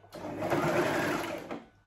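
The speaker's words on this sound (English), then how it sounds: "then you take it to your sewing machine and sew from here to here" Sewing machine stitching fabric for a turban hat runs in one continuous close, steady whir for under two seconds, starting and stopping cleanly with no talk over it.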